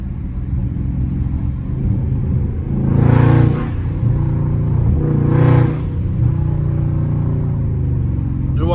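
Car engine revving hard as the car slides with no traction on rain-soaked pavement, with two loud surging revs rising over a steady engine rumble.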